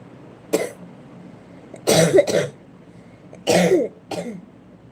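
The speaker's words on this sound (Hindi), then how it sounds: "शाम को कुछ ज्यादा ही आती है खांसी" A person coughs in a few short bursts, close up, a couple of them doubled, with quiet pauses in between.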